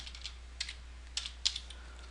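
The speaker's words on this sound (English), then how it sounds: "Let's go new, and then we type in pond, maybe" Quiet, fairly close computer keyboard typing: a few light, irregular keystrokes entering a name in the Dwarf Fortress game, with no speech.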